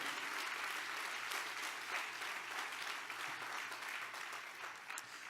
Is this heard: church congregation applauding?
yes